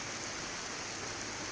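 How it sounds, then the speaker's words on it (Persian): Rain falling by a river outdoors: a steady, soft hiss of drops and flowing water, constant and unbroken, with no voices. "تو رودخونه داره بارونم میگیره، هوا هم که خرابه"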